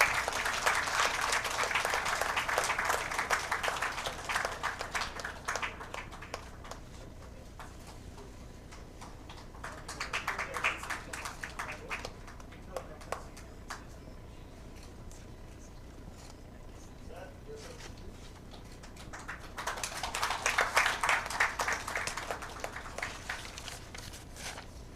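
Applause from a conference audience rises and falls in three bursts, loud at the start, briefer near the middle and swelling again toward the end, with quieter room noise between.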